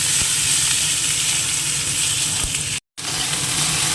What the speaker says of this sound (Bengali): একটুখানি ভেজে নিলাম হালকাভাবে